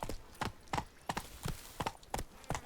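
A horse trotting in The Witcher 3, hooves clip-clopping in a steady, even rhythm of paired beats, moderately close and heard on their own.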